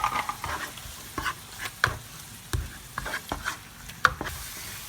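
Tomato paste being stir-fried in a pan for a gravy sauce, with repeated scraping and stirring strokes of a utensil over a low sizzle, close and moderately loud, no talking.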